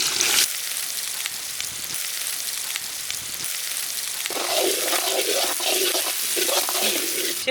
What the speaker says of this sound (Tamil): சின்ன வெங்காயம் நம்மளுக்கு உடனே ஃப்ரை ஆகுன்றதுக்காக கொஞ்சம் சால்ட்டு சேர்த்து போதில்ல